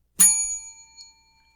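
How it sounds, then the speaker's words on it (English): A comedy panel show's "inappropriate bell" gives a single bright ding, loud and close, with a clear metallic ring that fades out over about a second. "I will employ what I have called the inappropriate bell"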